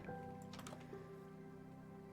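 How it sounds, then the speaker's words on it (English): Water leaking and dripping in a modded Minecraft world: soft squishy drip sounds in the first second over a steady game-music hum, with no talk. "I hear running water. Oh, you guys got a leak."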